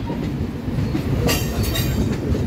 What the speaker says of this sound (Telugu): ఇదో ట్రైన్ వస్తుంది.